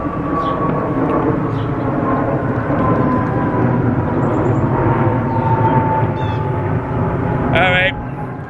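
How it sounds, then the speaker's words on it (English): A jet airplane passes overhead outdoors as a steady, loud broadband roar that fills the whole span, with a low rumble and faint tonal whine, ending with a brief higher chirp near the end. "now we have a jet flying overhead there"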